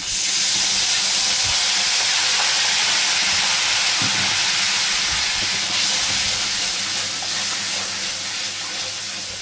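Water poured into a hot pan of spices with turmeric and cumin powder, for a Bengali pabda fish curry with eggplant, giving a loud, steady steam hiss and sizzle that fades slightly over the whole stretch, with no talking.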